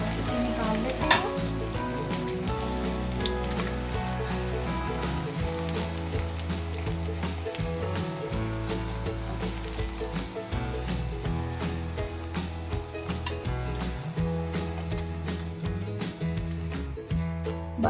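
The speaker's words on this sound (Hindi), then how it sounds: "बाकी के भी सारे अनियन रिंग्स को हम फ्राई करेंगे।" Onion rings deep fry in hot oil, giving a steady, dense sizzle and crackle with constant bubbling that carries on evenly throughout.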